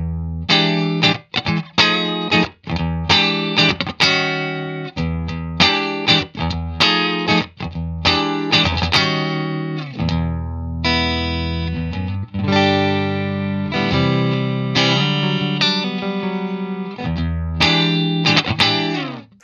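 Electric guitar played through an IK Multimedia X-Space reverb pedal with reverb off, distorted and slightly chorused, with strummed chords and riffs, dry and close with no reverb.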